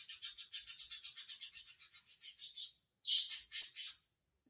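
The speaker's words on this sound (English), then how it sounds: "Do y'all hear every time I start talking, the birds start chattering?" Birds chatter outdoors in a rapid, steady run of bright repeated calls that pause briefly and then resume loud and close, with no speech.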